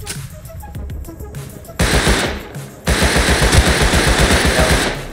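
Rifle fire in the survival game Rust: rapid automatic bursts, loud and close, rattle continuously after a brief pause, forming a dense stream of shots.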